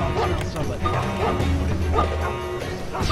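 In Mark of the Ninja, a guard dog gives a run of short barks and yips at mid distance against a low game hum, with a voice heard over part of it.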